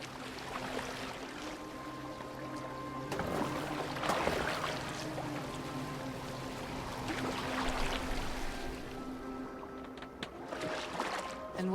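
A boat moves across water in the video game Assassin's Creed Valhalla, giving a continuous sloshing, rushing wash with splashes that persists steadily throughout.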